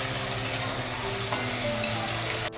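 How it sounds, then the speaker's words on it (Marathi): Spring onion frying in hot oil, a constant close sizzle with light stirring and a couple of brief clinks. "आता आपण स्प्रिंग ऑनियन टाकत आहोत."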